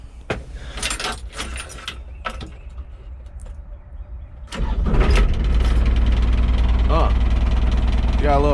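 A John Deere 27 mini excavator on a farm: a few clicks and key jangles, then the diesel cranks at about 4.5 seconds and catches, settling into a loud, steady, close idle with brief talk over it.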